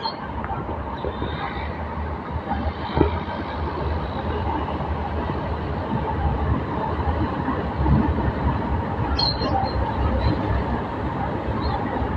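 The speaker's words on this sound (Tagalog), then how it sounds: "Yan ang mga train na bumabiyahe na pero wala pa, hindi pa namasada, hindi pa namasahero." An LRT train runs along the rail line near a station, a steady, broad rumble of wheels and traffic noise with a faint high tone and occasional clanks, distant crowd murmur underneath.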